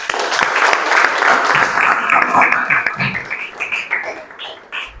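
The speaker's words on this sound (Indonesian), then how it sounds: "Mari kita sama-sama memberikan tepuk tangan untuk kalian semua." A seated audience breaks into full applause at the close of a talk, the clapping strong and even before thinning out and fading toward the end, with a few voices audible under it.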